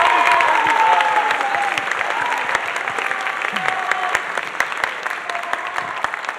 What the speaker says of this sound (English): How about another big round of applause for Concert Band, Symphonic Band, and Wind Ensemble